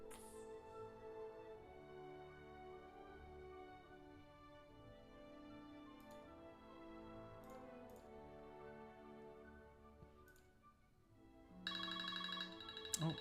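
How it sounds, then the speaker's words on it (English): A phone rings softly over quiet game music during Pillars of Eternity, entering near the end as a brighter, steady electronic ringtone. "Oh, just got a phone call here"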